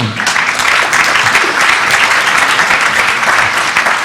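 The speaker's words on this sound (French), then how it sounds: "Qu'on peut applaudir quand il monte." Steady, loud audience applause filling a conference hall during a talk on artificial intelligence and perfume, continuous clapping from a crowd throughout.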